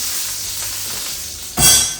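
Soybean oil heating in a hot pan gives a steady, soft hiss, then a sudden louder burst of sizzling near the end as flank steak is laid in.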